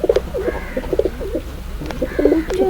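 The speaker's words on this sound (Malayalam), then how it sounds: "ഇതാണ് എൻ്റെ 4ാമത്തെ പ്രാവ്" A pet pigeon coos in a series of low, throaty rolling calls, close by and clear, repeating in short bursts with brief pauses between them.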